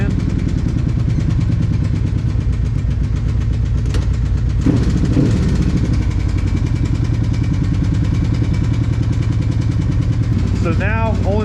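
A Kawasaki, Yamaha or Polaris ATV engine idles steadily and close by for the full stretch, a continuous low throbbing rumble, with a brief revving rise near the end; a person talks over it.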